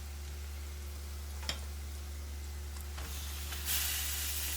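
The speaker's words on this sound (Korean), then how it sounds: "고기를 넣고 고기를 볶아줍니다." Pork shoulder sizzling and hissing as it is stir-fried in a hot pan for vindaloo, over a low steady hum, a couple of sharp clinks, and the hiss swelling louder near the end.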